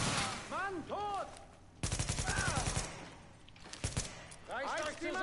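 Gunfire in the video game The Division during a police academy main mission, with bursts of shots between stretches of German talk and several sharp loud volleys.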